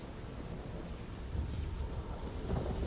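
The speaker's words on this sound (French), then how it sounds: "Ouais vas-y pète ton éclair" Thunder after a lightning strike in The Elder Scrolls Online, a dense low rumble that swells and rolls steadily throughout, loud and continuous with no gaps.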